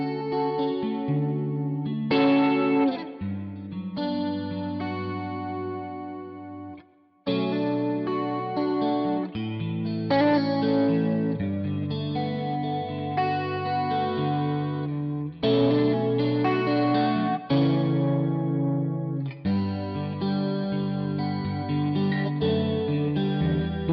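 An electric guitar played through a Neural DSP Quad Cortex model of a vintage Boss CE-2 chorus pedal rings out in shimmering, wavering chords and single notes, loud and sustained, with brief pauses between phrases.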